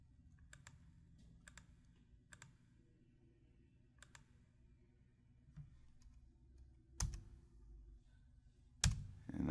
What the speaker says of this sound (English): And I just click the delete key.